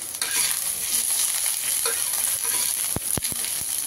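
Onions fry in oil in a pan for a sapla (water lily) curry: a constant close hiss of sizzling, then a few sharp spatula taps near the end, with no voices.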